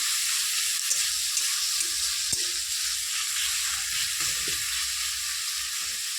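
Garlic with turmeric, salt and Kashmiri chili powder fries in hot oil for a kochu loti dish, making a steady, close, even sizzle with a few faint stirring knocks and no voices.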